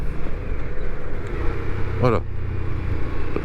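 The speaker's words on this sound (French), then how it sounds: "on est sur un bicylindre en V, donc on a un frein moteur qui est très présent" Indian Scout Bobber V-twin motorcycle engine braking, a steady low rumble while the bike slows under the engine, with someone talking over it throughout.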